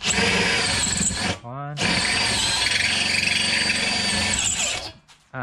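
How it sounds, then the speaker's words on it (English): A power drill with a drill bit bores into wood for a backstop built from old bed frames, running in two long, loud whining bursts with a short pause between and a brief spoken word. "After trying another drill bit."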